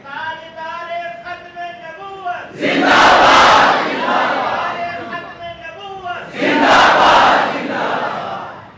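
A religious gathering's crowd answers a slogan with loud chanted shouts in two big bursts, each swelling and fading, after a single voice leads the call in a sung, drawn-out tone.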